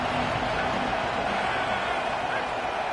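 A packed college football stadium crowd at a Mississippi State versus UT game roars loudly and continuously, a dense, unbroken wall of noise with commentary talk underneath.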